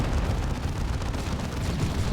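A Demolisher Cannon firing in the strategy video game Dawn of War 2 during an Imperial Guard versus Chaos battle, a dense rumbling blast with continuous low battle noise throughout.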